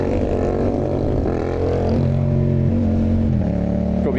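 A BMW F900GS motorcycle engine revs steadily and loudly with a sustained droning tone that shifts pitch slightly, close and continuous, with no talking.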